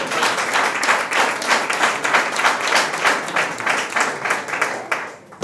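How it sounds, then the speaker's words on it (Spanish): An audience at a Sevilla supporters' club gathering claps in a steady, moderately loud round of applause that fades slightly near the end. "Muchas gracias a todos por vuestros aplausos"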